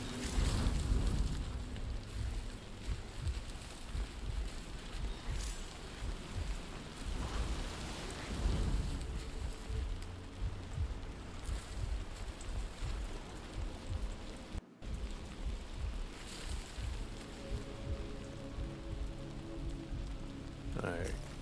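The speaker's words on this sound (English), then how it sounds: "I can't be in this rain this long." Steady rain patters across surfaces in Death Stranding 2, a dense continuous hiss with occasional heavier gusts and low rumbles, holding at a moderate level throughout.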